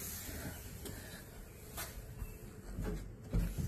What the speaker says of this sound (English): See that little cupboard door?